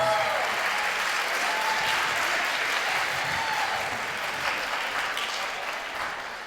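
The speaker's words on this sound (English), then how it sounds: "give them a round of applause" Wedding guests at an Indian wedding break into sustained, dense applause from a large crowd, steady and loud throughout and easing slightly toward the end.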